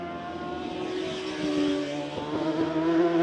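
Superstock and Superbike racing motorcycles lap the street circuit during Macau Grand Prix qualifying, a sustained roaring engine drone that rises in intensity as a bike approaches, with no talk over it.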